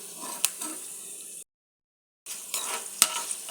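Tempering spices sizzle and crackle in hot oil while being stirred, for a coconut and raw mango chutney, with sharp pops and scraping, a sudden silent gap midway, then the frying resumes close and steady.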